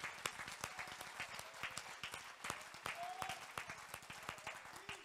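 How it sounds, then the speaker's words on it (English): A church congregation claps during a morning worship service, a steady dense patter of many hands applauding together, with some voices mixed in underneath. "Give the Lord a clap this morning."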